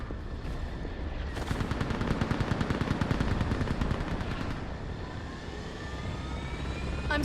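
A gunship in the Mass Effect 3 battle on Thessia fires a rapid, sustained burst of automatic gunfire for about three seconds over a droning aircraft engine, which keeps roaring after the shooting stops.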